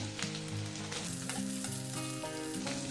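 Garlic-ginger paste and onion frying in a pan for spring roll filling, a dense, loud crackling sizzle throughout with faint background tones and no talk.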